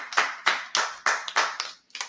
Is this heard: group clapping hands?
yes